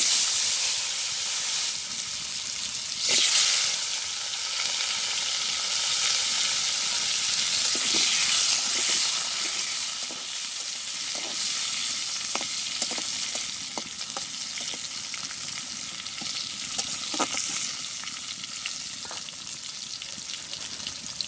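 Potato pieces fry in a ground spice paste with whole cumin in a Bengali village kitchen, giving a steady close hiss and sizzle with scattered clicks of stirring throughout.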